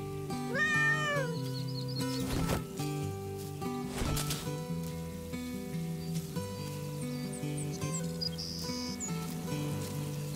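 A kitten meows in the Garden Simulator video game, with a few rising and falling calls near the start. Bright chirps come later over a steady bed of game music and ambience, and no one speaks.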